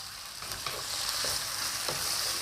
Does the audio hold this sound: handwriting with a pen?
no